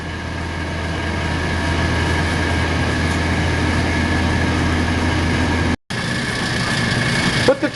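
Mechanical roughing vacuum pump evacuating an eBeam evaporator chamber: a loud, steady broadband drone with a low hum, briefly cut off near the end, with no talk.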